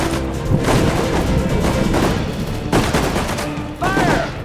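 Dense gunfire from World War II infantry combat in the strategy game Sudden Strike 4, with rapid overlapping rifle and machine-gun shots and booms in a continuous loud barrage.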